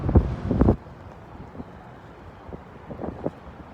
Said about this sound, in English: Woo, it's windy today.